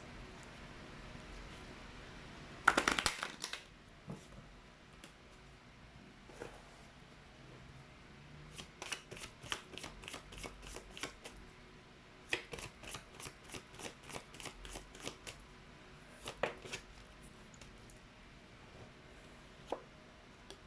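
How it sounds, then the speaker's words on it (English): Chinese fortune cards being shuffled: a loud burst of card riffling early on, then quick runs of crisp flicking and tapping in clusters, close and dry with no talking. "let's get some Chinese fortune cards for you guys"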